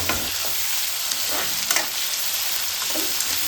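Onions with green chilli and ginger fry in a hot pan, giving a dense, steady sizzle with occasional soft stirring scrapes throughout, close and uninterrupted by talk.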